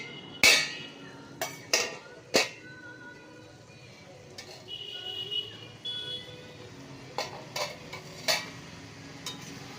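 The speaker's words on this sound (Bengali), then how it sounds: "ঢাকাটা খুলছি" A lid comes off a cooking pot of onions, with a few sharp metallic clanks and clatters of lid and utensils against the pot, close and separated by quiet gaps with faint kitchen background.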